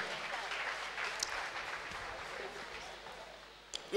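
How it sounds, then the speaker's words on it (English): A church congregation clapping for Jesus, a dense wash of applause that slowly fades out, with a short vocal sound near the end. "Give Jesus a clap offering."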